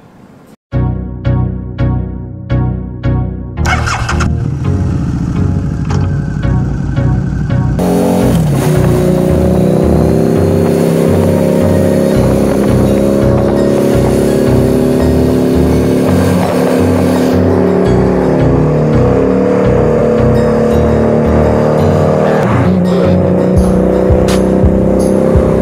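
A car engine cranks with a few quick chugs, catches, then revs hard and holds a loud, steady roar with rising and falling revs, played back from a recording with no talking over it.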